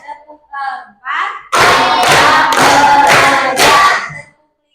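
Hands clap in a counting clap game in a classroom: a few soft, scattered claps, then four loud, sharp group claps in a steady beat, close by.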